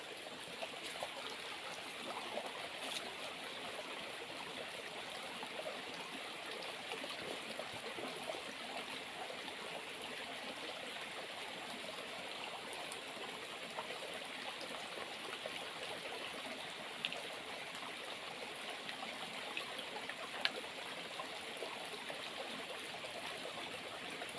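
A creek flows in a forest with a steady, moderate babble and trickle that runs unbroken throughout, with no one speaking.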